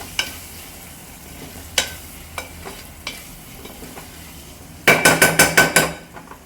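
Mutton biryani masala stirred in a pan after chili powder goes in: scattered spoon knocks against the metal, then a quick run of six loud scraping clatters, with a faint sizzle underneath and no talking.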